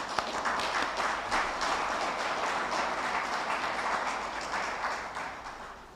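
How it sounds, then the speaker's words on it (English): A room full of people applauds Lake City council members as they stand at an economic development presentation, a steady dense wash of clapping that holds for the whole stretch and eases slightly at the end. "Let's give them a round of applause."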